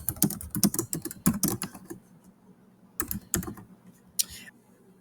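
Typing on a computer keyboard: bursts of rapid, crisp key clicks close to the microphone, a dense run in the first two seconds, a pause, then a few more presses and a brief clatter near the end.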